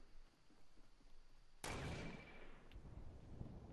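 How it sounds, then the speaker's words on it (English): A single sharp gunshot cracks out in a Fortnite Battle Royale match, loud against a quiet, low background hiss and followed by a brief fading tail. "Was that you shooting?"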